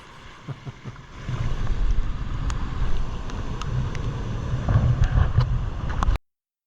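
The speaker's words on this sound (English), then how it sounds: "I found this log embedded in the sand, getting creamed by waves." Ocean waves surge and wash over a log buried in beach sand, a steady loud roar of rushing water and spray with strong wind buffeting the microphone, then cutting off abruptly.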